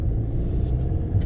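A car on a driving lesson, a low engine rumble filling the cabin as it pulls away, steady and close with faint road noise and no voices.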